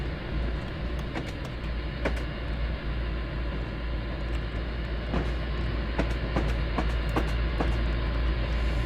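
Amtrak and Metro trains in the Railworks train simulator game, a continuous low rumble of rolling stock with scattered clicks and clacks of wheels over rail joints, steady and fairly loud, with no talk.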